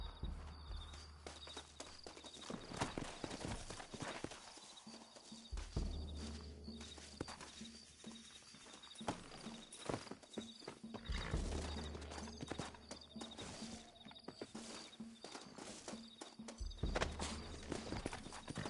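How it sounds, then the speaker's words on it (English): Horses in a video game clip-clop along at a trot, hooves thudding in an uneven rhythm, with several whinnies and neighs cutting through fairly close by. "Looks like Carlos left us some horses."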